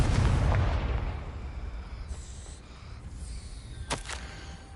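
Confringo blasting spell going off in Hogwarts Legacy, a loud rumbling explosion at the start that decays into a long noisy tail, with a couple of sharper crackling bursts near the end.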